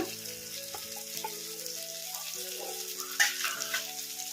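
Tamarind and chopped carrot for chutney fry over medium flame as they are stirred, a soft, steady sizzle with occasional scraping strokes under background music.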